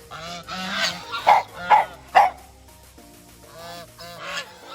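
Geese honk at a farm in the Philippines, several close, loud honks in a quick run near the middle, with softer goose calls before and after and no talking.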